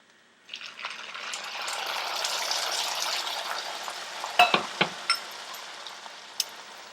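Grand Marnier orange liqueur poured into a hot pan for bananas Foster, setting off a steady loud sizzle that fills most of the span, with a few sharp clinks near the end.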